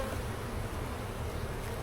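Honeybees buzzing during a July inspection of a large hive, a dense, steady close-up drone of many bees with no talking.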